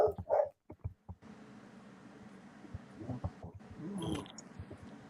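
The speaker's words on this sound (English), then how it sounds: "What's your dog going off about?" A dog barks and yips in short bursts early on, then whimpers faintly over a steady room hum, with scattered thumps later.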